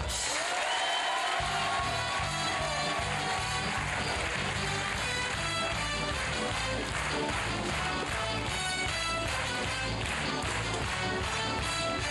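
Audience applause greeting illusionist David Copperfield on a French stage show, a dense, sustained roar of clapping and cheering from a large crowd, loud and continuous throughout with music-like tones layered underneath.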